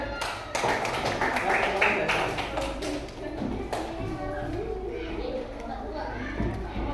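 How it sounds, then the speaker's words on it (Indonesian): Children in an Indonesian classroom clap for a classmate named Tasya, a short burst of scattered, uneven handclaps that thins into sparse taps, with children's voices chattering underneath. "Tepuk tangan dulu buat Tasya"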